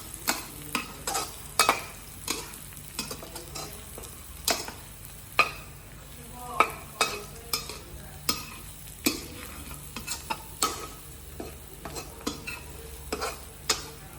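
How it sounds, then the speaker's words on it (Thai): Northern Thai larb ingredients of chili larb paste and pork are tossed and stirred in a bowl, with a steady series of sharp utensil clinks and scrapes over a soft background hiss. "แล้วให้คุณเจ้งคลุกเขาให้เข้ากันเลยครับ"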